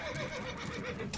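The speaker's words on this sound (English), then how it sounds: "Horses." A horse neighs in The Witcher 3: Wild Hunt, a short wavering whinny heard up close with light clip-clop of hooves beneath it, over in just over a second.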